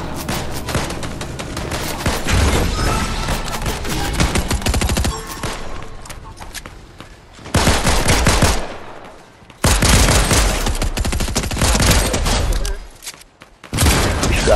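Dense bursts of automatic gunfire in a video game, loud and close, in long sustained volleys broken by short pauses around five, nine and thirteen seconds.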